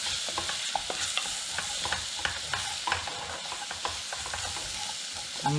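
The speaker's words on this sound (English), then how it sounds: "we're going to cook this for about 30 seconds to a minute to help the spices bloom" Spices with Kashmiri mirch frying in a pot for a red lentil soup, a steady bright sizzle and hiss with scraping stirs throughout, close and moderately loud, no talking.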